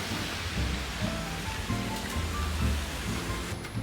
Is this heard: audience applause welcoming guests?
no